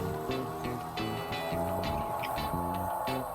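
A boat pushed by a 9.8 outboard motor on the Tilihul, its engine droning steadily up close with a pulsing, stepping tone over splashing water and no talking.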